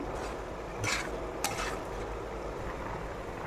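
A curry with chopped green chillies and garam masala powder is stirred in a pan, a low, steady simmer-and-sizzle with a couple of soft scraping strokes of the spoon.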